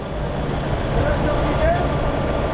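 A farm tractor's engine rumbles steadily at close range while the tractor backs up, a continuous low drone holding at the same level throughout.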